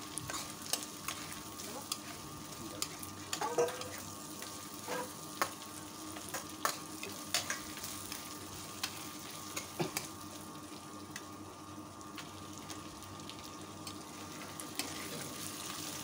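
Ground spice paste frying with browned onions in a pan for mutton curry, a faint, low sizzle under occasional spatula scrapes and taps, close but quiet.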